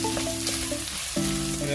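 Chopsuey vegetables stir frying in a pan, a steady close sizzle with faint clinks of stirring.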